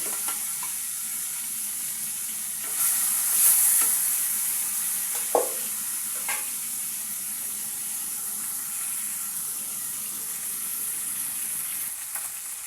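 Fish fries in a hot pan with a loud, constant high hiss of spitting oil, broken only by a couple of brief utensil knocks, and no voices.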